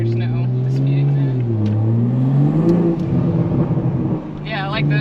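A 2021 Toyota Supra A91 Edition engine revs nearby, its deep growl rising and falling in pitch, with talking audible over it.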